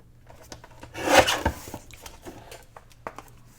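A paper cutter or blade trimming a strip off a Project Life card, a short scraping cut with a louder swipe near the middle amid faint rustling of paper handling.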